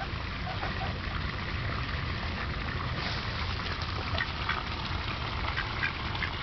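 Ducks quack on and off amid steady outdoor ambience, with the calls coming from nearby and holding at a fairly constant level for the whole stretch.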